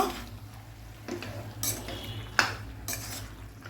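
Chicken coated in masala stir-fried over a high gas flame, with a spatula clattering and scraping against the pan several times over a low sizzle and no talking.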